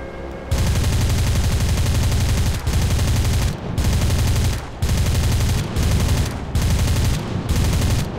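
Ship guns fire in War Thunder in long, sustained bursts of rapid fire, about seven of them, each lasting roughly half a second to two seconds. Brief gaps separate the loud, dense volleys.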